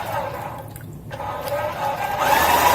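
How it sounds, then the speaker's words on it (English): A Graco paint sprayer runs its fast-flush cycle with water, giving a steady motorized whir and rushing hiss that grows louder toward the end. "Okay, so we're going to do fast flush."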